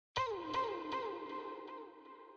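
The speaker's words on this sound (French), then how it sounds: "Donc c'est une reverb assez simple" Rap backing vocal processed through a simple Waves reverb set to wide and space modes: a sharp onset followed by a long ringing tail and faint repeated echoes fading out alone.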